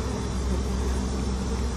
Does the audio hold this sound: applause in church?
no